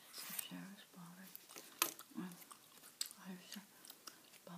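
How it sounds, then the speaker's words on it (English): Bubblegum being chewed close to the microphone, with soft wet smacks and clicks repeating in an irregular rhythm. A sharp bite or snap stands out midway, and quiet whispery breath sounds come between the chews. "There's a bubblegum I'm chewing today"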